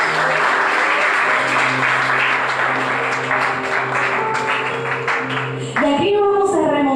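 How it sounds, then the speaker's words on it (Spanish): A church congregation claps together in sustained applause, loud and fairly steady, with a sustained musical tone underneath that stops near the end as a voice begins speaking. "Dele un aplauso a Dios."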